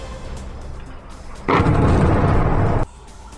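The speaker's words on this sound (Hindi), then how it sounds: "सीरिया की सेना ने आतंकवादियों के ठिकानों को टारगेट कर रात के समय विध्वंसक बमबारी की थी।" Syrian army bombardment at night striking militant positions, heard as one loud, sustained blast roar lasting about a second and a half, rising sharply out of a low rumbling background and then cutting off.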